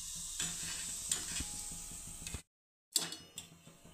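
Wheat kurdai crisps fry in hot oil with a bright, hissing sizzle and soft bubbling, broken by a brief silent gap before the sizzling resumes with a few crackles.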